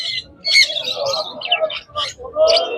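Normal budgerigars squawk and chirp in a pet market in Serampore, producing busy, close, loud overlapping chatter with repeated harsh calls across the whole stretch.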